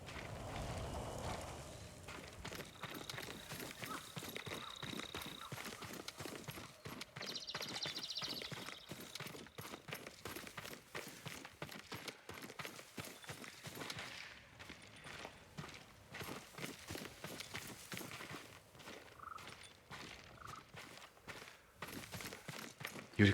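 Yuriko's horse in the Ghost of Tsushima game clip-clops at a steady walking pace, hooves close and continuous, with a brief whinny-like tone and no talking.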